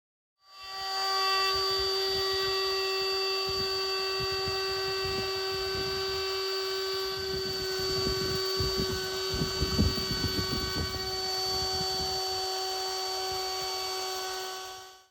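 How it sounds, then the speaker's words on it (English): A router fitted with a 1/4 inch roundover bit rounding the corners of a wooden storage case, a loud high steady whine that starts abruptly and runs continuously, with rougher cutting noise in the middle, then stops. "I'm going to use a 1/4 inch roundover bit to smooth the corners of the front part of the storage case."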